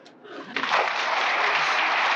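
Applause from a laugh machine in Annie Hall starts with a short ripple and then swells into a loud, steady wash of clapping that holds to the end, with no talk over it.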